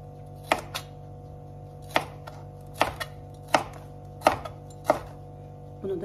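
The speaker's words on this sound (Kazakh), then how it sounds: "мінекей қиғаштап турап жатырмыз" A knife slices bell pepper diagonally on a board, giving about eight sharp, close cuts at a steady unhurried pace over a low background hum, with no speech.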